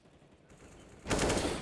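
Loud burst of automatic gunfire in Counter-Strike during a competitive match, erupting suddenly after a quiet stretch of low background noise and continuing to the end.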